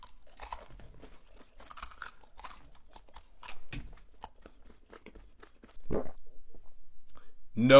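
Spicy chips, Doritos and Takis, being crunched: a handful of close, sharp bites and chews come scattered through the passage, with a heavier crunch near the end, amid quiet background sounds.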